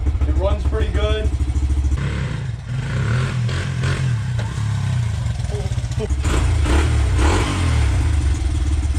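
Engine of a Honda XR100 motorcycle, a small dirt bike with possible 120cc big bore, running loud and close with steady low idle pulses and brief revs, while a voice talks over it early on.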